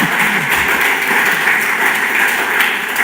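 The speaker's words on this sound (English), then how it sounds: "please give them a warm round of applause" Steady, dense audience applause at a peace, security and justice symposium in Musanze, Rwanda, filling the room evenly and continuously from start to finish.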